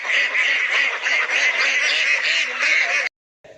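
Ducks raised on a farm quack and honk in a dense, continuous chorus, fairly loud and close, cutting off abruptly near the end.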